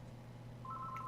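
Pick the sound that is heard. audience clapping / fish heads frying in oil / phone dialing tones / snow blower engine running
phone dialing tones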